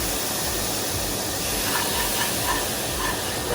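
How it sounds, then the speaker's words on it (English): Water sizzling hard in a hot pan of caramelized brown sugar, a steady close hiss with bubbling crackle running unbroken throughout. "Sizzle."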